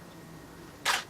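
A single camera shutter fires with a cable-triggered flash, one brief sharp click-burst near the end after quiet background hum.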